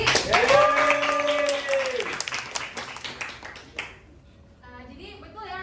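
A class claps briefly for their teacher, a short patter of hands under overlapping voices and a sustained tone, fading as talking continues.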